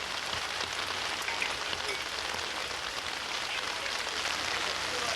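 Rain pours steadily over Montmartre in Paris, a dense, even hiss of drops striking streets and roofs that holds at a constant level with no voices.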